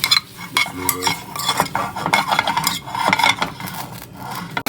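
Broccoli being sautéed in butter in a pan, with a utensil scraping and stirring in uneven strokes over a soft sizzle, close and fairly loud, no talking.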